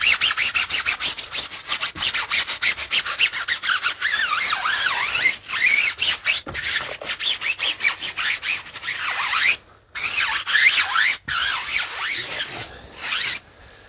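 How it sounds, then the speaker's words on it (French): A tyre brush scrubs car tyres during a full detail before sale, giving a steady close bristly rubbing with fast back-and-forth strokes and a few brief pauses. "je vais même prendre une brosse pour les pneus"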